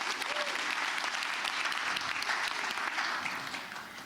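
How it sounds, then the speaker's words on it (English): An audience claps at a women's leadership conference speech, a loud, dense burst of many hands applauding steadily before fading slightly at the close, with no speech over it. "Can I get a clap for that?"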